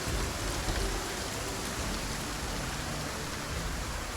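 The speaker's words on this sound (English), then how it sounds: "Man, this is an epic storm." Heavy, unbroken downpour from a fierce storm in the zombie survival game Project Zomboid, a dense hiss of rain on surfaces that holds steady and loud from start to finish with no talking.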